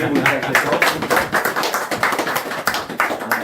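A crowd of team members claps and cheers in a dense, steady burst of applause, close and lively, welcoming a new member into the group.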